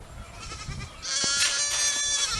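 Goats on a homestead bleat loudly and close by. A short wavering call comes first, then a louder, sustained bleat carries on to the end.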